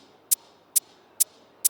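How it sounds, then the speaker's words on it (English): Synthetic maracas shakes land as four crisp, bright, very short ticks at a regular rhythm, alone and fairly close, with quiet gaps between each hit in an electronic drum pattern. "A maracas sound"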